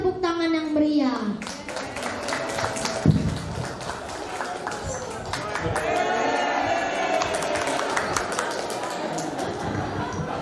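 An audience at a school festival breaks into steady applause, dense clapping that carries on for several seconds, with a voice speaking over the start.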